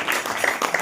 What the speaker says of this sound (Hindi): ताली बजाकर